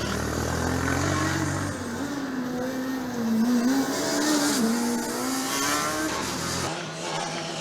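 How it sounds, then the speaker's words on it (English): Formula Student combustion race car engine idles and revs unevenly, a steady buzzing drone with rising and falling pitch, heard at moderate distance against open-air background noise at the endurance event. "Chennai has fired up their engine."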